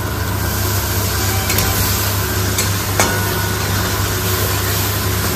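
Water poured into a hot cooking pan sets off a loud, steady hissing sizzle, with a few sharp clicks and scrapes over the continuous spitting.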